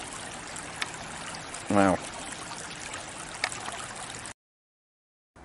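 A forest brook flows with a soft, continuous trickle and gurgle under light outdoor ambience, interrupted by one brief exclaimed word from a nearby man, before the sound cuts to silence near the end.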